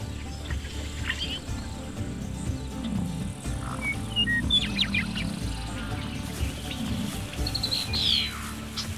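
Breeding birds on the open plains in spring, heard as a few scattered bright chirps and short calls over a constant buzzing hum of insects and flies, the whole scene fairly quiet and outdoors.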